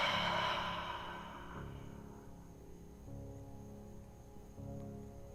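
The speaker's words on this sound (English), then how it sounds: "taking a big deep breath in through the nose and exhale, let it go" A deep, slow breath drawn in through the nose and released in a long exhale during a guided meditation, close and soft, fading into quiet with a low hum underneath.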